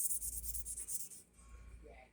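A Scotch-Brite cleaning pad rubs back and forth across very old O27 toy train track rails, giving a fast, steady scratchy scrubbing close up for about a second before it stops.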